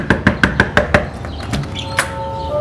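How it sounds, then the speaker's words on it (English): Six sharp knocks on a door in quick, even succession, close and fairly loud, followed by a faint chime-like tone and a softer tap. "knock on the door."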